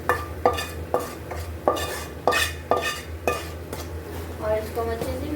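A spoon stirring sarson ka saag (mustard greens) in a metal pot, a series of sharp scraping clinks at a loose regular rhythm over a low sizzle, close by, with faint voices in the background.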